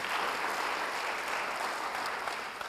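A church congregation applauding: dense, steady clapping from a sizable crowd, sustained evenly at moderate loudness for a few seconds, with no speech over it.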